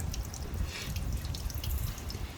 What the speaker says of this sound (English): tilt it back and see how much water drains out